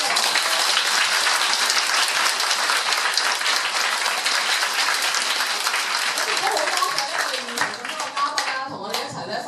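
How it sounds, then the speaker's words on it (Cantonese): A studio audience gives warm, dense applause after a talk, many hands clapping loudly and continuously before it thins into scattered claps near the end. "咁就我哋再俾一次熱烈嘅掌聲"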